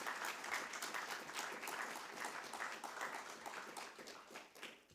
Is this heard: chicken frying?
no